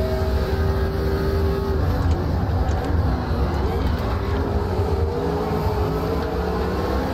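Engine of a 1974 Formula Retro Gen 1 race car in Automobilista 2, a steady loud drone with shifting pitch holding throughout, with a voice talking over it.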